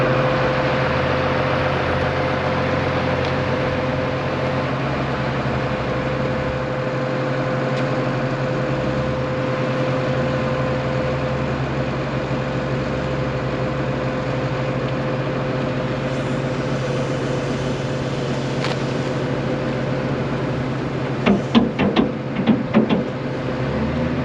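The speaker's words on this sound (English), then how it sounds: "I feel like the tractor's just gonna shut off." MX285 tractor engine running at a steady idle with a constant low drone and hum, with a few clanking knocks near the end.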